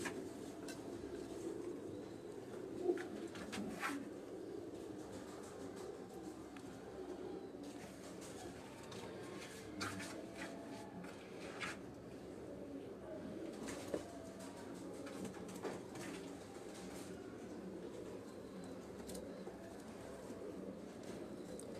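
Pigeons cooing from a farmhouse rooftop in a steady, low murmur, with occasional faint clinks and rustles over a constant background hum, no clear talk.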